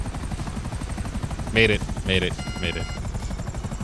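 A helicopter lands in the video game GTA 5. Its rotors make a steady, rhythmic chop throughout, and someone talks briefly over it.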